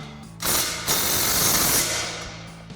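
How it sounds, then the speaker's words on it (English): A ratchet with a 14 mm socket tightening exhaust bolts on a 2009-2021 Toyota Tundra, giving a quick burst of close, rapid clicking for about two seconds. "Now I'm going to take my 14 millimeter, tighten these 2 bolts up."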